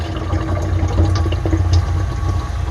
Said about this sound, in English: That was the water just getting sucked down that tube.